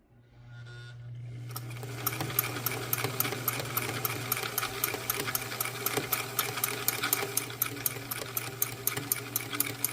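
A Singer 348 sewing machine starts up and runs steadily, its rapid rhythmic stitching clicks and motor hum close and continuous after a brief quiet start.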